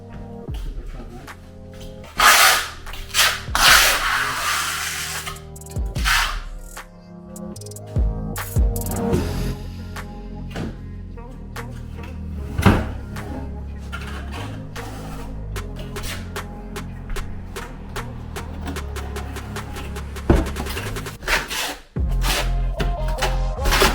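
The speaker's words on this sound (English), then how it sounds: "you use white thin set. Trowel over here. I'm just going to back butter this one." A trowel scrapes and taps repeatedly while back-buttering stacked stone with white thinset during a fireplace install, close up, in irregular strokes with a few sharp knocks and pauses.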